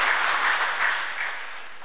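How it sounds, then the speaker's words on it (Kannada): Audience applause for Narasimha Joshi at a comedy show in a private resort, a steady round of clapping that gradually fades. "ನರಸಿಂಹ ಜೋಶಿಯವರಿಗೆ ಒಂದ್ಸಲ ಜೋರವಾದ ಚಪ್ಪಾಳೆ ಮೂಲಕ"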